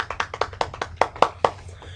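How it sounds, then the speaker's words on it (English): Slow, sparse golf clap during a Lunar Lander game session: a single pair of hands patting out about ten soft, polite claps at an even pace, close and quiet, with no talking. "I think that calls for a golf clap."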